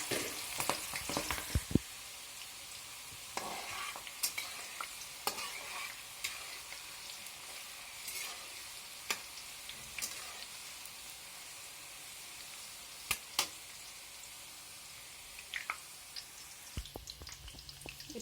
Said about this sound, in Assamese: তেলখিনি গৰম হ'লত মই ইয়াতে দিলোঁ কাটি লোৱা বিট জলকীয়াখিনি